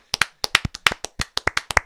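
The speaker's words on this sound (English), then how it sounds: "Just want to give a round of applause to the teachers" A small group claps for teachers on Teacher Appreciation Day, a quick, crisp run of separate hand claps, close and loud with no talking.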